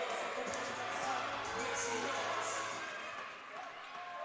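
An arena crowd at a women's NCAA ice hockey quarterfinal between Adrian and Hamilton roars and cheers steadily, loud and broad, easing slightly near the end, while a commentator talks over it.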